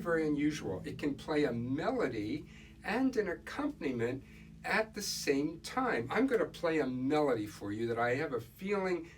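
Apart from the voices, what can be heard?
None of the usual background noises is heard.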